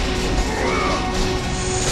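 Objects being smashed in the God of War video game, a dense continuous crash and clatter filling the whole stretch at steady loudness with no talk over it.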